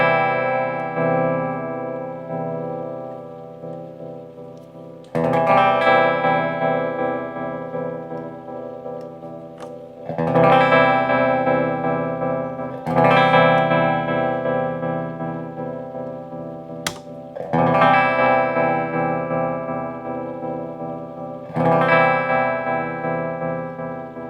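A guitar plays through a Quaverato harmonic tremolo pedal with the harmonic mix raised. Five sustained, distorted chords each ring for several seconds with a pulsing throb and fade slowly, with sharp clicky ticks between some of them.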